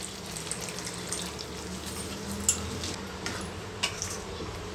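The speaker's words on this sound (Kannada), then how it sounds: "ನೋಡಿ ಮಟನ್ ಬೇಯಿಸಿರುವಂಥ ನೀರು ಇದೆಯಲ್ಲ, ಅದನ್ನು ಕೂಡ ಹಾಕ್ತಾಯಿದ್ದೀನಿ." Water left from cooking mutton is poured into a pan, a faint, soft trickle with a few small clinks of utensils and no talk.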